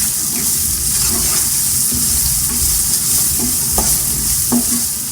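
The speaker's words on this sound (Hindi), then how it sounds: "अब ये मसाला हमारा फ्राई हो गया" Spice masala with salt and chopped green chilies frying in a pan for a potato samosa filling, a steady close sizzle with occasional stirring clicks and scrapes, no talking.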